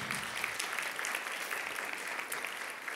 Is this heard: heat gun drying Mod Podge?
no